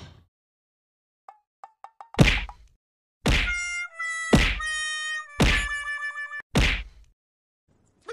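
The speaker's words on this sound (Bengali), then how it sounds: "কল টিপতে টিপতে দম লেগে গেল" A cartoon hand pump is worked for water: a few light ticks, then five loud, evenly spaced clanking thwacks, each followed by a ringing metallic tone.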